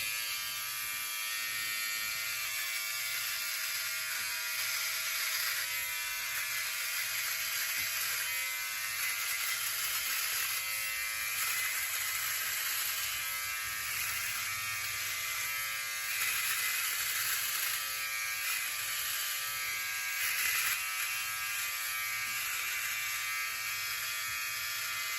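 A OneBlade electric razor hums steadily and close for the whole stretch as it shaves a face upward against the grain, its buzz wavering slightly with each stroke and never stopping.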